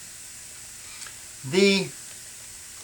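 A steam iron resting on a carpet repair patch pad over a carpet seam lets out one short, close hiss that swells and fades within about half a second, against quiet room noise.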